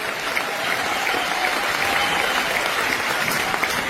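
An audience at an event in a hall claps loudly and steadily, a dense wash of applause that holds for several seconds.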